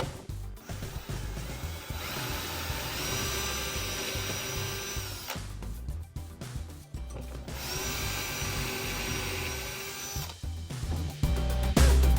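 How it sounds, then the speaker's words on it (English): A cordless power drill drives screws into pocket holes in a wooden blanket ladder, with two long sustained motor whirs separated by short pauses and clicks. The sound is loud and close, with no talking. "Now I just take my drill and make sure it's on a drill setting."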